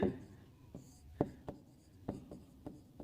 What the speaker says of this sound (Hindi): तो यहां पे लिखते हैं